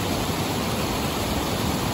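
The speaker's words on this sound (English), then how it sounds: "it sounds like a big waterfall." A large waterfall rushes close by, a dense, steady roar of white water with no breaks across the short stretch.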